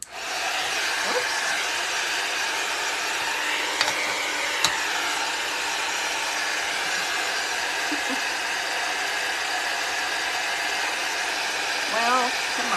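Heat tool melting white embossing powder for card making, a steady loud blowing hum that holds for the whole stretch, with a brief spoken exclamation and a few small clicks and handling noises.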